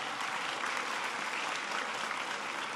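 Audience applauding at a school during a presidential speech on education, steady sustained clapping from a large crowd throughout, fairly loud and close with no talking over it.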